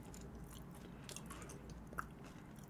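Crunchy tortilla chips with sauce being bitten and chewed close to the mic, a steady stream of soft crackling crunches with one sharper snap partway through and no talking.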